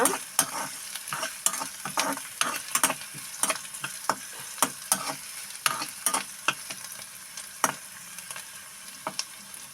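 Ingredients for a curry fry in a pan under repeated stirring, a soft sizzle broken by frequent sharp scrapes and taps of the spoon, close and rhythmic, with no voices.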